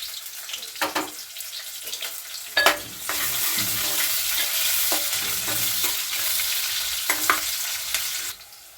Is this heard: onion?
yes